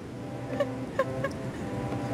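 A chicken in the video game Minecraft clucks in a few short, soft blips over a low, steady background of game ambience, faint and fairly distant.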